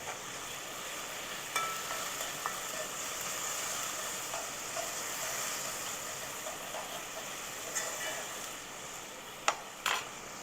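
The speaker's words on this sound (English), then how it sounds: "let it saute, fry up for a little bit there" Lamb chunks sautéing and frying in a pot for a lamb stew, a steady broadband sizzle throughout with occasional faint clicks and stirring scrapes, no talking.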